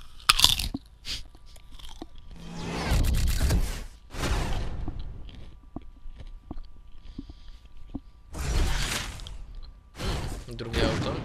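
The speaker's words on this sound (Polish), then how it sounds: "W nagrodę zjem chrupka." Crunchy corn puff snack being eaten close to the mic, repeated loud crunching bites and chewing bursts spread across the stretch, separated by short quiet gaps, with someone speaking Polish in between.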